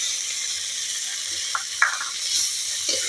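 Cumin, ginger and coriander paste frying with tomato and garlic in a pan, a soft steady sizzle with a few light stirring clicks close by, no talking.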